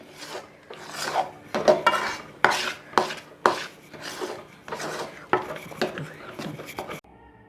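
A ladle scrapes and stirs a thick sweet mixture in a pan for a festival sweet, making repeated rasping strokes in an uneven rhythm, close and fairly loud, with no voices.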